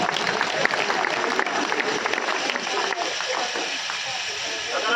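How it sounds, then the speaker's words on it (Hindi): Audience applause at a comedic poetry recital, a dense burst of clapping that fills the clip, loudest early and gradually thinning. "एक बार इनके पानी मांगने पर तालियां बजा दीजिए।"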